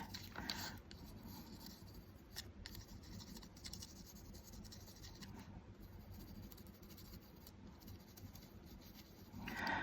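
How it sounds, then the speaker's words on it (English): Pencil marking on a fabric tag during a faux bleach craft technique, a close, soft continuous scratching and rubbing that runs steadily throughout with brief louder strokes, no talking. "So a little bit of pencil marking."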